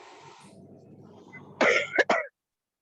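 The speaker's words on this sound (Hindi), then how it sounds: "खांसी की वजह से ना खांसी आ जाती है, पूरा पढ़ नहीं पाती" A woman gives a short burst of two or three harsh, close coughs after a stretch of quiet murmuring.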